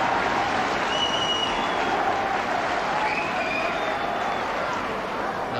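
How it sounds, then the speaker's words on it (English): Warm applause rises from a football crowd at a Hearts versus Dundee United match in 1984, a steady broad wash of clapping and stadium murmur that carries on throughout at fairly high level. "some warm applause for the Hearts fullback"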